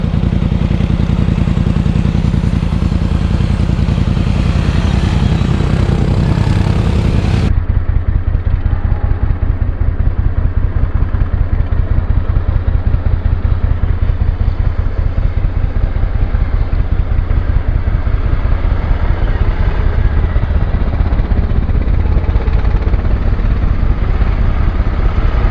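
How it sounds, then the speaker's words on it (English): Polaris Sportsman 450 HO and Suzuki KingQuad 750 ATVs climb a hill on a winter ride, engines loud and steady throughout with a rough, throbbing drone that shifts in character after the first several seconds. "can a Polaris Sportsman 450 HO climb a hill and keep up to a Suzuki 750 KingQuad?"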